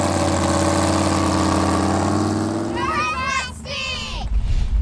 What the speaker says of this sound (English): I run a 427 big block Chev in it.